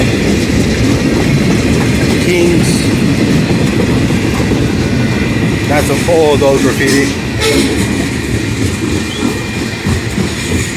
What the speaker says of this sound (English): This train is long.